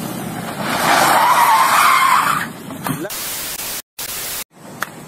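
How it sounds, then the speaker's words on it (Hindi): Recorded footage of a motorcycle crash, with a loud skid and scraping noise that rises, holds and fades, followed by cut-up noisy bursts and brief dropouts. "तो बाइक क्रैश हो गई थी"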